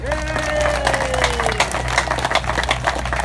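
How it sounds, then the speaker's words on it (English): An outdoor crowd at the Oklahoma State Traditional Bow Championship buckle presentation gives a round of applause, steady clapping with a voice briefly heard early on and a low hum beneath. "How about a round of applause for Haskell?"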